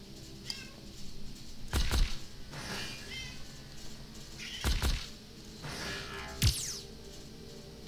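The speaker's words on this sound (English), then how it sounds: "Sorry if you hear my cat in the background." A pet cat meows in the background several times, short faint cries scattered across a quiet room with low game sounds underneath.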